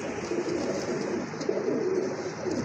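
Domestic pigeons at a pigeon market, a steady murmur of overlapping soft cooing from many birds, continuous and fairly close with no speech.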